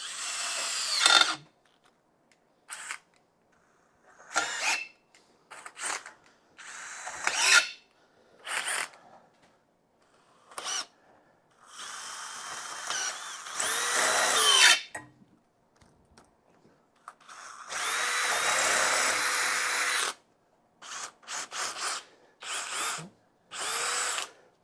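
Power drill driving a Diablo Metal Demon titanium drill bit into steel, heard in repeated bursts of whining, grinding drilling with pauses between, including a few longer sustained pushes through the metal.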